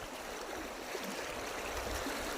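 A strong river current at Lagaslas rushes steadily as broadband water noise, continuous and fairly close with no talk.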